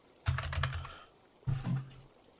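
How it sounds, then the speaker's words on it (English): Keystrokes on a newly switched computer keyboard while working through a modded Minecraft quest, coming in two short close bursts of quick clicks separated by a pause. "It would help if I typed the right keys."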